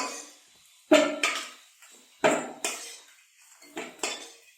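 Fried potatoes are lifted out of a pan of fish-frying oil with a metal utensil, making several sharp metallic clanks and scrapes in uneven pairs, close and clear against near silence, with no talking.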